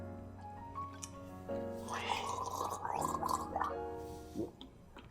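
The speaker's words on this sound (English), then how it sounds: "That's the sound of drinking water," A man drinks a mouthful of water, then gargles it loudly and wetly for a couple of seconds, bubbling close to the microphone before a swallow and a short gasp.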